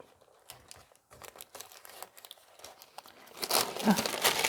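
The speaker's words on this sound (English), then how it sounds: "So now your liner is nicely folded. You can just fold it in a corner." Plastic liner being folded into a homemade soap mold, soft crinkling and rustling handled close by in short irregular bursts, growing louder and denser toward the end.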